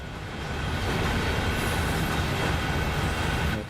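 The QO15 intermodal freight train runs in Train Sim World 5, a dense, steady rumble of rolling wagons and rail noise that holds at an even level throughout, with no talk.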